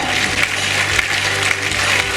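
Steady crowd applause at a local beauty pageant, Miss Ziemi Otwockiej 2016, greeting the first runner-up, a dense even patter of many hands lasting throughout at moderate loudness.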